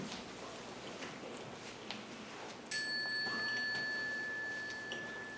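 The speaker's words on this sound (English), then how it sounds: "you bow with a sound of the small bell to the family" A single small bell is struck once and rings out with a clear, sustained tone that slowly fades against a quiet background.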